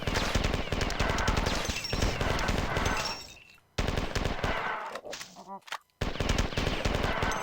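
Gunfire from weapons in Marathon 2 blasts out in loud, rapid automatic bursts, breaks off into a near-silent gap with a few scattered sounds, then resumes just as heavily.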